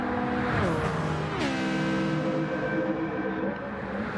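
A Pagani GT1 race car in a racing game at Tokyo East or Monza, its engine note sweeping up through the gears in two rising pulls, loud and steady, with faint commentary beneath.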